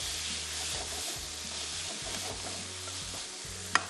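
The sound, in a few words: stirring spiced vegetables in a frying karahi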